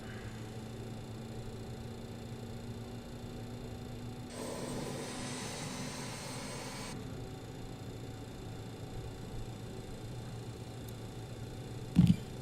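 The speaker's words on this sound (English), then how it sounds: "Just waiting for the next engine to come up here." A BAe 146 jet engine spools up in a flight simulator, a steady low hum joined by a rushing roar that swells for a few seconds and then drops back to the hum, with a brief click near the end.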